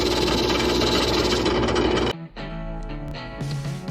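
A brass wire wheel spins against old rust-cleaned tools with a loud, droning motor whine that cuts off sharply, then quieter mechanical rattling and tonal hum continue as the machine winds down.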